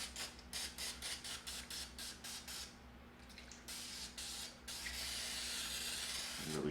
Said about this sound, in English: I'm going to spray this chicken on this side